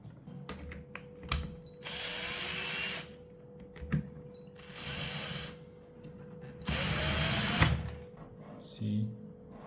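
A cordless power tool whirs in three sustained bursts of a second or so, driving bolts on the rails of a Funwheel, with a speaking voice heard in the quieter gaps between.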